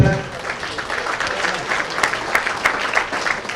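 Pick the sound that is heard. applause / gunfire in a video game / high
applause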